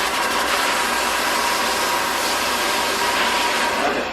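A barber's blow dryer blasting loose hair off clipper foils, a continuous loud airy whoosh with a steady motor hum that holds unbroken throughout, close up and with no one talking.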